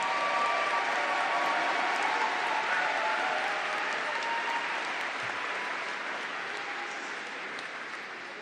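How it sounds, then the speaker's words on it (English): Sustained applause from a large commencement audience honoring graduating environmental biology seniors, a dense steady patter of many hands that holds throughout and eases slightly toward the end. "Let us applaud the accomplishments of these graduating seniors from environmental biology."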